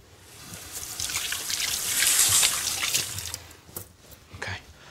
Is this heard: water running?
yes